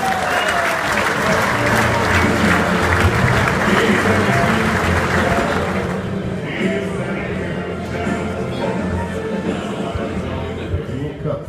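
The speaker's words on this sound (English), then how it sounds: "Let's give a big hand of applause to Chris and Sir." Audience applause at a Just4Gents event in Cape Town, a sustained wash of clapping for two guests that thins after about six seconds as a crowd murmur carries on underneath.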